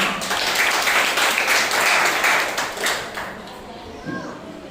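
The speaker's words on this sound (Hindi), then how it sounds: "जितेंद्र कुमार के लिए जोरदार तालियां" Congregation applause at a Sunday church service for a first-time visitor named Jitendra Kumar, a strong burst of clapping that swells then tapers off, with voices and children audible under and after it.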